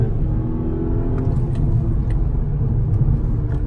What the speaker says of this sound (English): in sport mode we're just going to give you a quick 0 to 60, see how quick this thing actually is